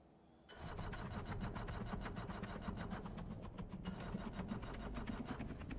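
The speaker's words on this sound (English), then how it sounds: "Is the engine running?" A vehicle's engine in a vehicle-building video game starts up after a quiet moment and runs steadily with a rapid, even buzzing throb, loud and continuous with slight wavering in pitch.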